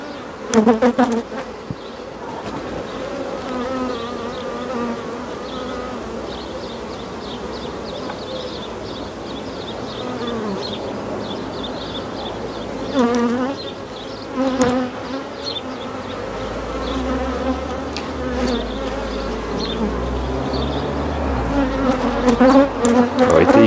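Honey bees hum in a dense, continuous swarm buzz at the hive while beekeepers work near a starter colony and its queen, with individual bees zipping close past at moments.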